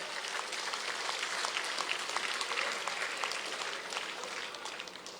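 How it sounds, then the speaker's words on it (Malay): Steady applause from an audience at a Barisan Nasional election campaign launch in Slim, a dense crackle of many hands clapping throughout, fairly loud and continuous, easing slightly at the end. "Saya minta hadirin berikan tepukan gemuruh pada mereka."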